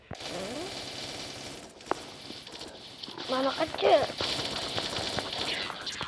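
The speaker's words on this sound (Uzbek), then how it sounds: "Otishma bo'lyapti." Rapid bursts of video-game gunfire crackle amid clattering hoofbeat-like effects and game sounds, with someone talking over the action at moderate loudness.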